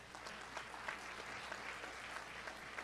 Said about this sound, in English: give yourselves a round of applause for packing the house out tonight